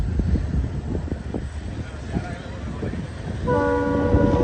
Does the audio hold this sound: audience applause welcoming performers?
no